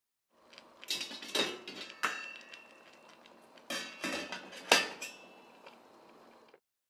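A metal steamer rack clatters and clinks against a 6-litre metal pot in a couple of bursts of close, bright metallic knocks and scrapes.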